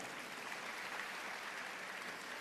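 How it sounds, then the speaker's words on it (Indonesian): Sustained applause from a church congregation during a Christian sermon, a dense, steady wash of many hands clapping at even loudness throughout, with no voices standing out. "Berikan tepuk tangan yang meriah."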